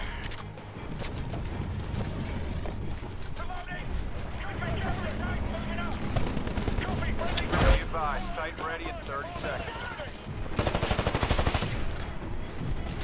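Gunfire from a small gun in Titanfall, rapid crackling shots mixed with game effects and battle noise, with a voice talking throughout.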